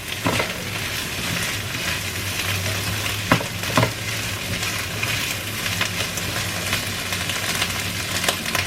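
Bitter gourd (ampalaya) fries in a pan with a steady close sizzle, a spatula scraping and stirring with occasional sharper knocks against the pan, no voices.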